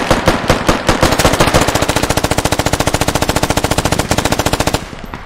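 Rapid automatic gunfire in a video game, a loud close burst of evenly spaced shots that runs nearly continuously for several seconds and stops sharply at the end.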